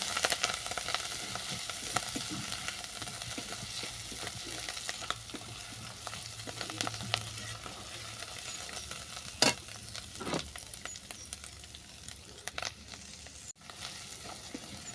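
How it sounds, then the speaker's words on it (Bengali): Ground spices including chili powder sizzle and fry in oil while being stirred, a soft steady hiss with scraping spoon sounds and a few sharp clinks against the pan. "এই সমস্ত মশলা ভালো করে কষিয়ে নেবো যতক্ষণ না তেল ছাড়ছে"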